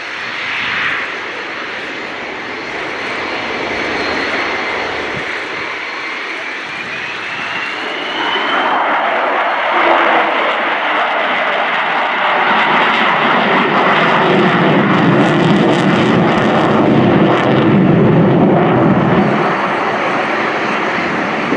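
Avro Vulcan B.2 XH558 jet bomber flying past over the airfield at Fairford, a loud sustained engine roar that swells and deepens as it sweeps in close, with no talk over it.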